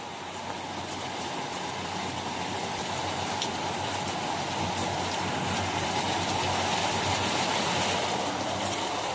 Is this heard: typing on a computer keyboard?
no